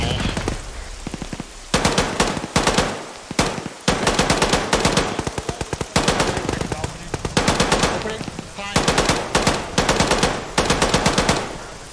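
Sustained machine gun fire in a military squad training video game, coming in loud rapid bursts over and over with short pauses between them, a near and relentless rattling volley.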